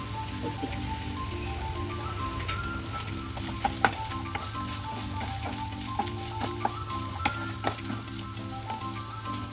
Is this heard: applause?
no